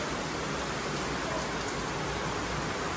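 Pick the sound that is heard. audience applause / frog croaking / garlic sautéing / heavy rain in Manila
heavy rain in Manila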